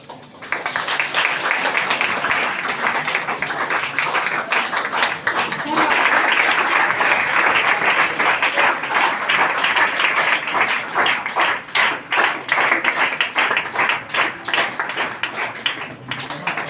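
Applause fills a college hall at a public health awareness event, a dense, steady clapping from a large audience that lasts about sixteen seconds and fades slightly toward the end.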